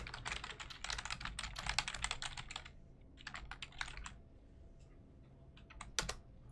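Rapid, fairly quiet typing on a computer keyboard while notes are written during a League of Legends coaching session, with dense bursts of keystrokes that slow into sparser taps and a few isolated clicks near the end.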